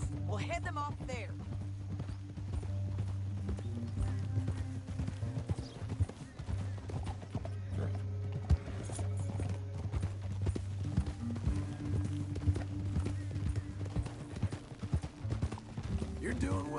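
Horses galloping in Red Dead Redemption 2, a steady run of clip-clopping hooves lasting the whole stretch under a sustained musical backdrop, with voices in the mix.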